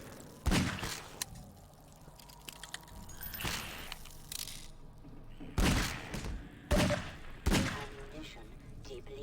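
Gunfire from the video game Half-Life 2 comes in several sharp, loud shots spaced through the stretch, separated by quieter game sounds, and a player talks in between.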